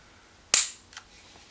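A CANiK TP-9 SFx pistol is dry fired, giving one sharp, close metallic snap of the striker, then a fainter click a split second later, in quiet surroundings.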